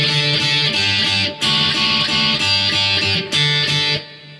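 Electric guitar playing the intro of a song at a slowed tempo: a repeating riff of bright picked notes and chords in short phrases, close and alone with no talking.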